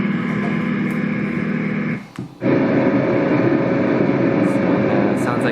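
A white noise machine plays a heavy machinery track, a steady loud rumbling drone that cuts out briefly partway through and then resumes.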